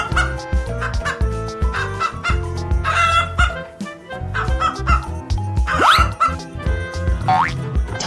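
A chicken clucks in an animal guessing game, set over busy, steady background music with cartoon sound effects and a rising whistle-like sweep near the end.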